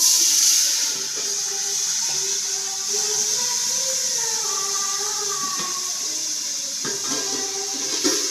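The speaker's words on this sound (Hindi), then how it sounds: "अब मैं डालूंगी इसमें पानी।" Water poured into browned frying onions hisses and sizzles steadily in a hot pan, a continuous bubbling wash of sound with faint clinks.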